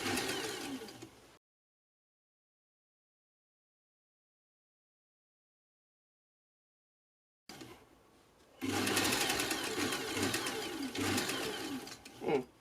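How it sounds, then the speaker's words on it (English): A sewing machine stitches the lining of a candy cane corset dress, starting up after a long silence and running as a loud, steady mechanical whir for about four seconds. "So now I'm just stitching the second side in."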